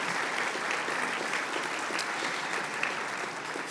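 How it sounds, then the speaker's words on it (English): Sustained round of applause from a crowd at a donor appreciation luncheon, a steady dense wash of clapping that holds evenly throughout without talk. "So let's give them a round of applause."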